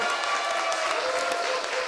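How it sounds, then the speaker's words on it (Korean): Audience applause and cheering at a Democratic Party guest lecture event, dense steady clapping with crowd noise filling the whole short stretch at fairly loud level. "여러분 다시 한번 큰 박수와 함성을 부탁드리겠습니다."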